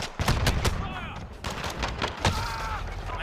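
Rapid bursts of gunfire from a weak M19 pistol in a first-person shooter game, loud sharp cracks in quick succession with a few ricochet-like tones.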